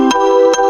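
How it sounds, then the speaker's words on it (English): Short burst of bright sustained synthesizer chords from a Nexus plugin in a tropical house track, held steadily with two brief percussive ticks, loud and alone with no talk. "On the first pattern I see we have an Nexus, and it sounds like this."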